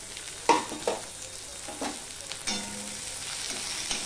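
Lote fish frying with green chili in a pan, a soft steady sizzle with several knocks and scrapes of a spatula against the pan, no speech.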